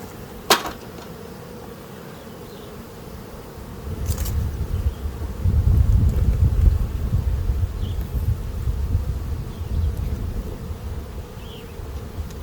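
Honey bees buzz around an open beehive during a colony inspection, a dense low hum that swells louder from the middle onward and stays steady, with a sharp tap near the start and faint wind in the background.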